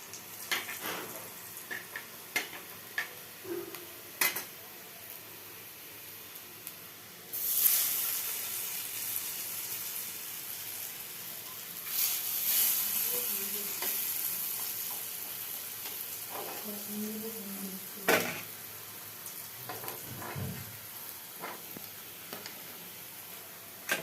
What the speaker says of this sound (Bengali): লাল লাল করেই ভাজছি